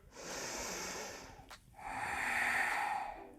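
Two long, airy breaths during a yoga session for the hips: a steady hiss of air, a brief pause, then a fuller, deeper inhalation drawn in close to the mic, with no talking.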